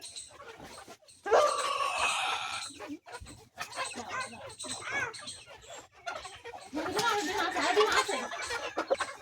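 Hens clucking and fluttering on a farm as one is grabbed, a burst of squawks and flapping that stays busy throughout, with people talking over it.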